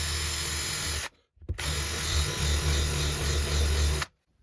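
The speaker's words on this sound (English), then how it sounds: "I'm going to drill over here somewhere close" Power drill boring into a plaster and lath wall to cut in an electrical box: a loud steady whine that stops briefly around one second, then resumes for about three more seconds before cutting off, with no talk.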